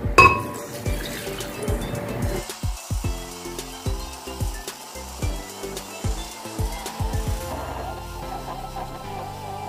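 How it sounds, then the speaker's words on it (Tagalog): Glass clinks and knocks repeatedly as water is poured and sloshes, a close, uneven series of clatters with a trickling fill toward the end. "At lalagyan natin ito ng isang basong tubig."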